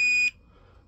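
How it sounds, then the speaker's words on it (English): A Toptes Guard-156 four-gas detector sounds a single loud, piercing electronic alarm beep, sharp and close, followed by quiet. "This has two levels of alarms, low level, and as it increases, the alarm will go quicker."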